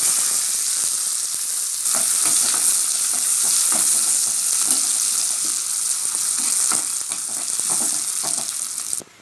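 Onions and dried chillies fry in hot oil with mustard seeds in a pan for kuppai keerai koottu, giving a steady close sizzle with occasional stirring scrapes and no voices.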